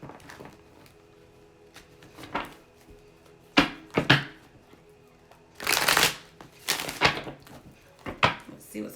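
Tarot cards are shuffled by hand in several separate bursts of crisp riffling and slapping, close and fairly loud, with quiet pauses between them.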